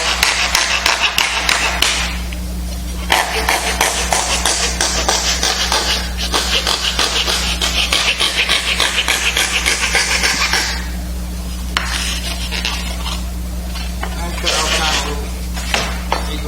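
Hand saw cutting a small piece of quarter-inch plywood, rapid rasping strokes in long continuous runs broken by short pauses, close and loud over a low background hum.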